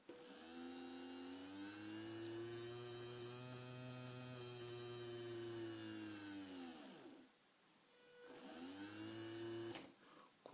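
A small DC motor from an Arduino starter kit whines with a steady, harmonic-rich hum. Its pitch dips and rises as the speed changes, it cuts out briefly, then spins back up before stopping.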